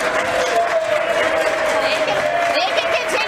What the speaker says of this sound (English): They can continue clapping for the schools that they didn't build.